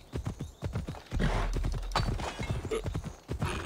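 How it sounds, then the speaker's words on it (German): A horse gallops in the video game Assassin's Creed Odyssey, with rapid rhythmic hoofbeats pounding continuously and close, along with a brief whinny. "Bis das Pferdchen bei mir ist"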